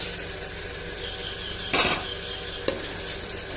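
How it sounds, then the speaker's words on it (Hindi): Soaked chickpeas fry in masala in a pot. A steady sizzle runs throughout, with a short burst of stirring scrapes and a single clink. "छोले डाल के हम इन्हें अच्छे तरीके से भून लेंगे।"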